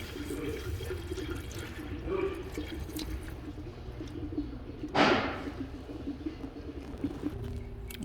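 Engine oil trickles from the opened drain plug of a Volvo XC90 into a pan below, a steady faint stream with a brief louder splash partway through, no talking.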